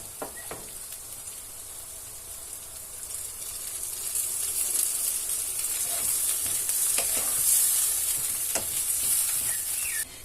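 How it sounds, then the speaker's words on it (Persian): Tomato paste frying in a pan for sausage bandari sizzles and hisses steadily after hot water is added, the sizzle building slightly louder midway, with occasional stirring clicks and no talk. "حالا توی این مرحله میتونیم یه نصف استکان آب جوش یا آب ولم رو بهش اضافه کنیم"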